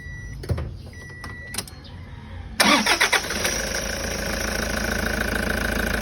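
A Toyota HiAce van with a 1KD diesel engine cranks and catches after a few quiet clicks, then settles into a loud, steady close-up idle, with a rattly note from the engine in noisy condition.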